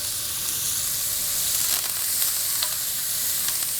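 Onion, celery, garlic, thyme and a bay leaf sizzle in a hot pan, a close, continuous frying hiss with faint stirring scrapes and small crackles.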